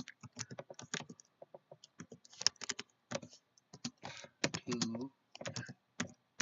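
Fingers type in quick, uneven clusters of clicks on a computer keyboard, close and fairly quiet, with brief pauses between flurries and a few soft, muffled words spoken under the tapping.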